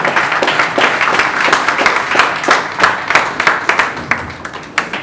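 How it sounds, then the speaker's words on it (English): Sustained audience applause fills a hall at a transport conference, dense clapping from many hands at a steady, loud level throughout. "Ladies and gentlemen, please applaud him one more time."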